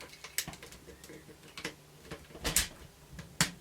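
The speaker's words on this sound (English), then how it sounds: "Are you going to open his doors?" Small plastic doors on a ToQ-Oh toy train robot click and snap open, a few sharp close clicks and taps with quiet handling noise between them.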